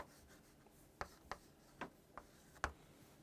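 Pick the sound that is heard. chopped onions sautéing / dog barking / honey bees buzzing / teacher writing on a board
teacher writing on a board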